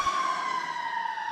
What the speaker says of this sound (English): he gets into an ambulance and there's the siren